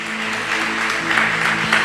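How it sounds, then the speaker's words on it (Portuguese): A church congregation applauds during a worship service, dense clapping that rises slightly under a sustained hum of music or organ tone, heard briefly and close. "Vamos aplaudir Jesus bem forte."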